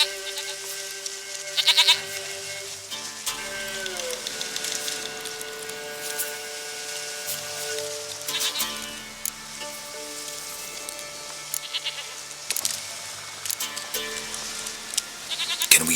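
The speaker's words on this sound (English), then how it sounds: "Goat of mine, dearest," Goat bleats in the video game The Witcher 3, several bleats scattered among tonal game music and ambient sound, no speech heard.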